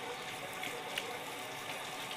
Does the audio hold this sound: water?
yes